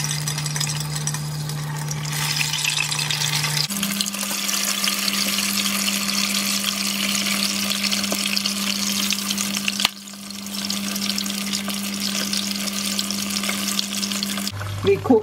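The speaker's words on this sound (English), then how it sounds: "We cook until the color change from white to golden." Thai money bags (toong thong) deep fry in medium hot oil, a dense continuous sizzle and bubbling with a steady background hum that shifts pitch twice, loud and close with no talking.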